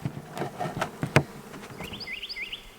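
Honeybees in a managed hive colony buzz close by, several short sharp knocks and handling sounds at first, then a thin, wavering buzz rising and dipping near the end.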